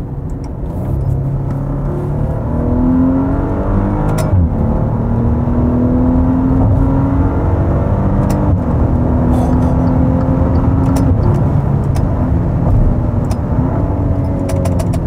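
A Maserati Levante SUV with a Ferrari engine accelerates hard in sport mode, its loud engine note climbing through rising pitch sweeps with brief shift dips, steady and close throughout.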